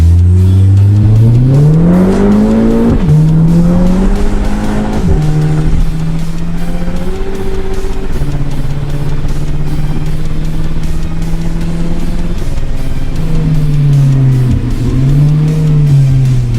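A stage 3 tuned Audi TT launches at full throttle, its engine roaring loud and close as the revs climb, dropping briefly at each gear shift and then pulling hard again.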